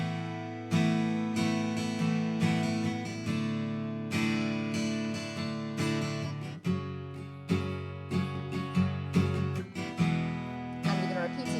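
Acoustic guitar strumming plays the intro of a song, a steady down-down-up pattern of chords ringing clearly and close, alone without any voice.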